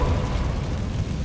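A Confringo fire spell explodes in Hogwarts Legacy, giving a loud, sustained rumbling burst that fills the whole moment without pause.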